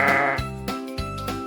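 A sheep bleats in three wavering calls, close and clear, each cry separated by a short pause with no talking.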